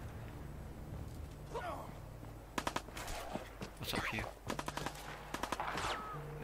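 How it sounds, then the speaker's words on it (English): Bursts of rapid gunfire in the game Fallout 4 crackle at a distance in short volleys, with a hushed voice speaking between the shots. "I hear gunfire as well"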